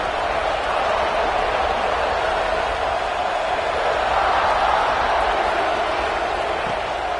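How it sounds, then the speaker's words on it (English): Dense, steady roar of a football stadium crowd urging on the home team during a third-down play, loud and continuous throughout with no clear individual voices standing out. "Guns up, and so is the noise. The crowd electric trying to help Tech on this 3rd down."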